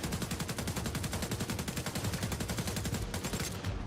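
An assault rifle fires in The Division 2 in a sustained rapid automatic burst of evenly spaced sharp cracks, loud and continuous throughout with no talk.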